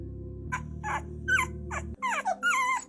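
A puppy whimpers in a series of high, wavering whines, close to the listener over a steady low hum, with no speech during the cries.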